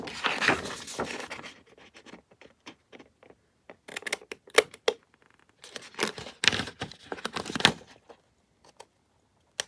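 Decorative-edge scissors snip paper in short irregular bursts of crisp cuts, close and fairly quiet, with pauses between clusters.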